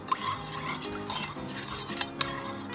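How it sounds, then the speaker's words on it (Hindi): Vanilla custard powder stirred into about 200 ml of cold or lukewarm milk, a spoon scraping steadily around the bowl with soft clinks and a couple of sharper taps, close and alone. "वनीला कस्टर्ड पाउडर है 200 मिलीलीटर वाले दूध में डाल दें, अच्छे तरीके से मिक्स कर लें"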